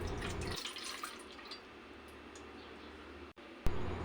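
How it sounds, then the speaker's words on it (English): Water is poured into a bowl for a simple fishball sauce, a soft brief trickle and splash at the start, then a quiet lull, and a short, louder gush near the end. "Grab a bowl and pour some water."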